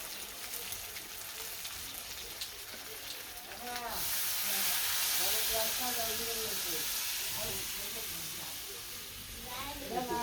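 Meat sizzles as it is sautéed in a pan, building to a steady, hissing fry partway through, while people talk over it throughout.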